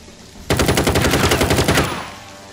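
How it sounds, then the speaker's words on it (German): Gunfire from Jagged Alliance 3 tearing through a wall: a loud, rapid automatic burst of about a dozen evenly spaced shots lasting over a second, then a fading tail, with no talking. "Ballert er einfach durch die Wand durch."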